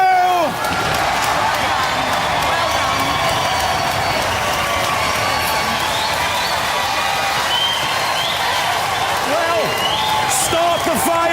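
Sustained studio audience applause and cheering at the Robot Wars Series 4 Grand Final, a dense steady wash of clapping and shouts with a few whistles, loud throughout.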